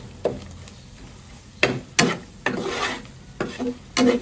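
Chicken is stirred in a pan for a chicken chop dish, giving a series of short scraping, rasping strokes in uneven bursts, close and fairly loud.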